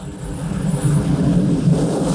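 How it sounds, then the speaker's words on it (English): Military aircraft landing or taking off at Da Nang airfield produce a steady, loud engine roar that rises slightly and holds throughout, with no talk. "Hardly a minute passes without some aircraft coming in or taking off."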